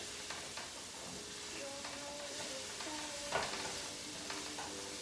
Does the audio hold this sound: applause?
no